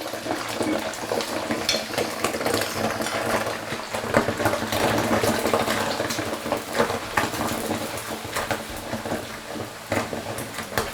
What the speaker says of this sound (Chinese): 锅里倒点油，这波呢把这鸡丝炸一下